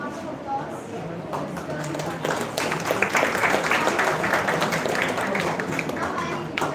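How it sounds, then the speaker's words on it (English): Audience applause at a valedictory session, a sustained mass of clapping that swells after a couple of seconds and holds steady, with a voice audible underneath at the start. "A good round of applause to"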